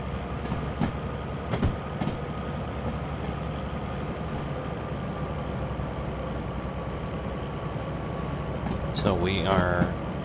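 A locomotive rolls downhill in the Derail Valley train game, a steady low rumble with faint rhythmic clicks, and a brief squeal rises near the end; a voice talks over it.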